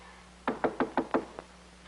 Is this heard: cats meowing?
no